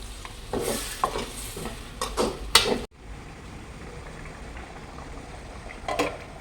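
Duck egg gravy simmers in a pan with bursts of stirring and scraping in the first half, then a softer steady bubbling, with another brief stir near the end.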